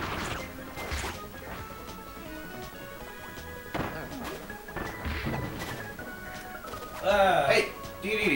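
Blocks smashing in the video game Kirby's Return to Dreamland during four-player co-op, a few sharp crashing hits scattered among busy game music and effects, with players talking over the action.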